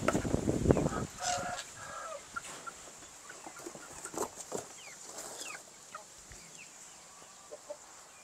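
Shamo and Indio Gigante roosters crow several times, some near and some farther off, mixed with clucking hens and a few scattered bird calls.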